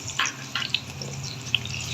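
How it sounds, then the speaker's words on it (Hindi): Browned onions with garlic ginger paste frying in a pan for beef nehari, a steady close sizzle with short stirring scrapes and small crackling pops throughout. "और इसको अच्छे साथ फ्राई कर लेंगे 2 मिनट के लिए"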